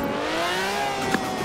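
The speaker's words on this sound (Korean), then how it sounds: "아니 왜 수프라 엔진 소리가 여기서 들리지?" Toyota Supra engine sound playing from a tuned hypercar in a racing video game, a steady droning engine note with rising harmonic whine as it accelerates, loud and continuous, no talk over it.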